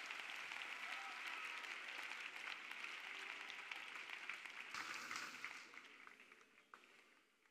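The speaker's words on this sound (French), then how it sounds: "Let us clap for Jesus Christ." A church congregation applauds during a prayer and preaching service: dense, sustained clapping from many hands that holds steady, then thins and fades toward the end.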